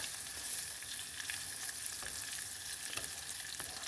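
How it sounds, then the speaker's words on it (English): Steady crackling sizzle of pasta frying in a pan over guanciale, with fine spitting pops continuing throughout. "I've got my guanciale under this little nest here of this nicely frying pasta."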